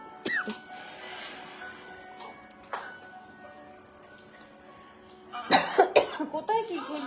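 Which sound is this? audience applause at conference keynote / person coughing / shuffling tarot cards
person coughing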